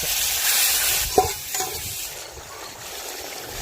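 Onions and chilies frying in hot oil in a village outdoor kitchen, a steady soft sizzle with a couple of brief stirring knocks near the start, no voices.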